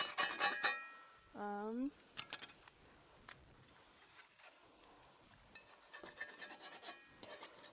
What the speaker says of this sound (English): I'm just going to use this scraper here to scrape off anything else that didn't get scraped off from the pan